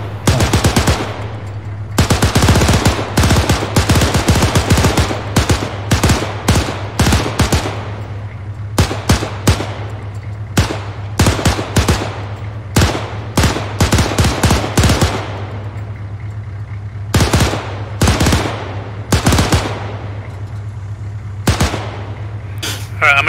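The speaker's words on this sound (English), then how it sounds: "but I hear gunshots coming from somewhere." Rapid bursts of gunfire in the video game Arma 3 crackle in repeated volleys, loud and sharp, with a steady low engine hum underneath throughout.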